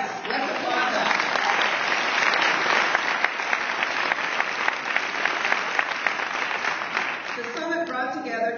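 A seated audience applauds during a speech about the first White House Summit on Community Colleges, a full, steady round of clapping that swells and then fades as a speaker's voice returns near the end.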